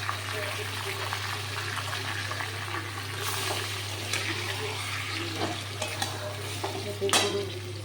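Browned chicken frying in a pan while being stirred: a steady close sizzle with scraping spatula strokes and occasional clatter, and a constant low hum beneath it.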